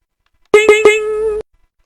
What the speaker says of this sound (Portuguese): Um sinal de notificação, né, sei lá, de alguma chamada.